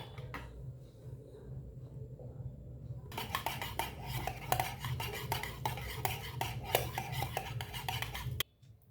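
Dahi bora ingredients being mixed in a bowl, with a busy run of clinking and scraping of a spoon against the dish that starts partway through and stops abruptly.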